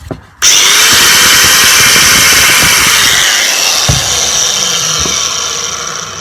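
A corded Bosch angle grinder starts abruptly and runs at a steady high-pitched whine, loud and close, with a few brief clunks as it works.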